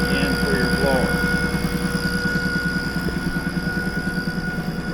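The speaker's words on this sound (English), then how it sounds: "Here's the motor running." Toro Power Max e26 HA snowblower motor running with V-belts turning the drive unit and blower, a steady loud droning engine with a rapid even pulsing throb throughout, close up, with brief talk early on.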